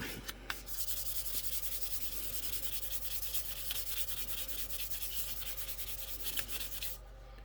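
Continuous close sanding of spray-can primer on a plastic scale model kit, a fine rapid scratching rub across a small surface, steady and uninterrupted with no talking.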